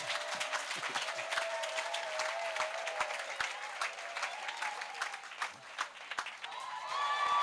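A crowd at an outdoor salvation and healing crusade in Bafoussam applauds with steady, fairly distant clapping, and a faint sustained voice or tone runs underneath.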